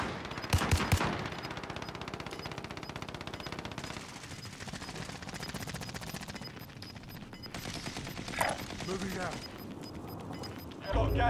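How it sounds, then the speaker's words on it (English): Fast automatic gunfire in a shooter video game, crackling steadily in long rapid bursts for most of the stretch, moderately loud with voices over it. "He's shooting at me, go ahead."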